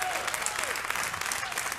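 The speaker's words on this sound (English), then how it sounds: "Somebody give the Lord a hand clap of praise." Church congregation applause at a Friday night campmeeting, a dense continuous roar of clapping hands with voices mixed in beneath it.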